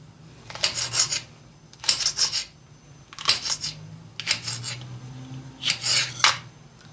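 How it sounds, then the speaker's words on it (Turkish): Green peppers being cut into medium pieces with a knife, five short bursts of crisp, rasping cuts at a steady rhythm, close and fairly clear with a faint low hum behind. "Çok büyük olmayacak bir şekilde şöyle biberlerimizi doğruyoruz."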